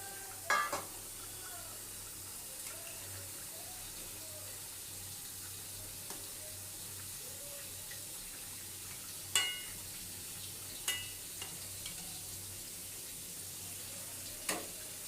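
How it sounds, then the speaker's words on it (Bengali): Fried fish pieces go into a pan of fish curry with potato, a faint steady sizzle underneath a few sharp clacks of a spoon against the pan spaced through the stretch. "ভেজে রাখা মাছগুলো দিয়ে দিচ্ছি।"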